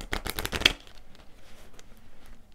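Small Lenormand cards being shuffled by hand, a quick close burst of riffling flutters lasting under a second, then near silence with faint handling noise.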